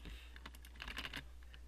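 Quiet typing on a computer keyboard: a short run of light, uneven key taps close by, with no voices.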